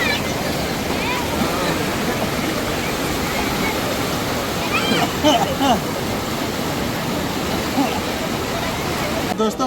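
Rushing water of the Bhairavi river at Rajrappa, where many people bathe, forms a steady, loud broadband roar throughout, with scattered voices and splashes mixed in.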